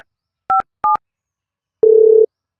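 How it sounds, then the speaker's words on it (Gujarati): A telephone number being dialed, two short keypad tones in quick succession, a pause, then a longer, buzzing tone, loud and clean against silence. "આજે શાંતિ કાકાને ફોન કરું"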